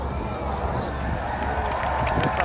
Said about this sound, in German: Jubel auf der Schaeffler-Tribüne.